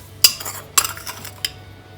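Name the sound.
stirring a shami kabab spice mixture with a spoon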